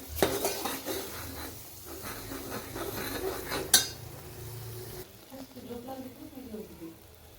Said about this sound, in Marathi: मसाला छान असा तेल सुटेपर्यंत परतून घ्यायचा आहे